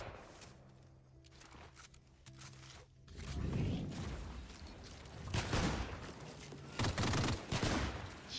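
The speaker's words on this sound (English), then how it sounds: "Shooting a lot of bushes." Gunfire in the Fortnite battle royale game rattles out in dense bursts, loud rapid volleys with brief pauses between them, over a low background rumble, with no talk.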